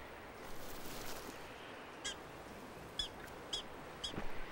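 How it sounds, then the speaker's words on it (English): Four short, sharp prairie dog alarm calls, yapping like a dog, repeat about once a second in open outdoor air, faint and somewhat distant over a steady background hiss. "they're called prairie dogs because of the sound they make when danger is near. It sounds kind of like a dog yapping"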